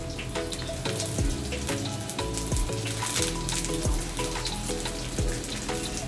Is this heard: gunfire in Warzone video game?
no